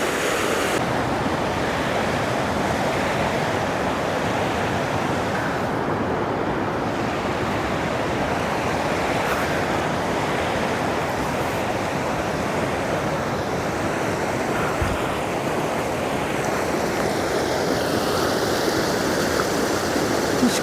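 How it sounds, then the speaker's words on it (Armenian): A river rushes where it splits into two streams, with water arriving from both sides. The flow makes a steady, loud, unbroken roar throughout, and no voices are heard. "Այստեղ գետը կիսվում է երկու մասի, աջ ու ձախ կողմերից էլ ջուրը գալիս է։"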